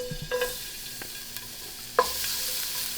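Garlic frying in a pan for ribeye steak pizzaiola sauce, a soft hiss with a few sharp clinks and one louder metallic knock midway, nearby and unaccompanied by speech.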